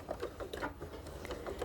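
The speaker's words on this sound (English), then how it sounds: "So I'm going to do a real quick back stitch." Sewing machine running a quick back stitch on a small pocket prayer quilt, a fast, faint, even mechanical chatter heard close and alone.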